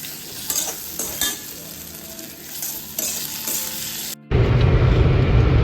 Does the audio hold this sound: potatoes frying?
yes